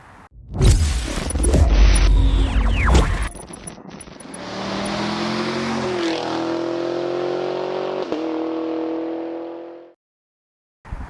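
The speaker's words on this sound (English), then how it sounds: "we're going to hit the road and truly enjoy this Porsche" A 20-year-old Porsche sports car engine roars and revs hard, then settles into a steady droning pull with rising pitch before cutting off abruptly.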